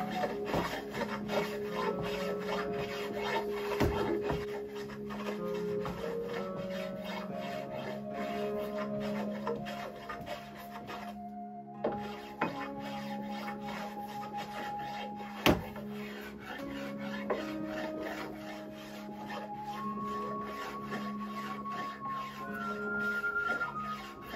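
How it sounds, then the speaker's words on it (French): A low-angle hand plane works along a large wooden cylinder in steady, rasping strokes. The scraping is continuous and close, with one brief pause and a sharp knock midway, and no talk. "on vient avec le rabot à angle faible et on lisse"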